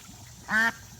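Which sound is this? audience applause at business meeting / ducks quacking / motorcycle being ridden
ducks quacking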